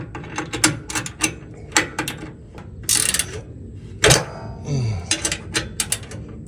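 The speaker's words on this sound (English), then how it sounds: "Torque wrench out. Tightening the 4th bolt that we added to it in the back." Torque wrench tightening a bolt on a truck camper mount: quick ratcheting clicks in short bursts, a few sharp metallic clacks and thunks, close and fairly quiet.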